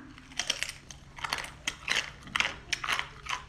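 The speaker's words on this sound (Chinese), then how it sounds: "嘎嘣脆。" Crunchy bites and chewing of spicy Chinese seafood at close range, a quick series of sharp crackling crunches in irregular bursts, heard alone without talk.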